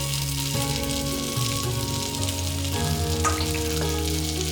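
Lamb sizzles and fries in a hot wok with Sichuan chili flakes, a steady, close, dense crackle and hiss that runs through the whole clip with the occasional stir.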